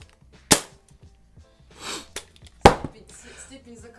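Two sharp pops from HDS-68 Power Launcher soft-bullet toy guns, one near the start and one a couple of seconds later, with quieter clicks and rustling between and people talking casually around them.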